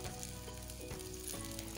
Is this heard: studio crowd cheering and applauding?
no